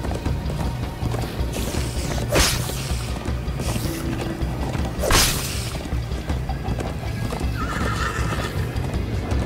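A galloping horse in the Minecraft Story Mode video game, with continuous clip-clop hoofbeats under loud whooshing action effects and a brief whinny, all fairly loud and busy.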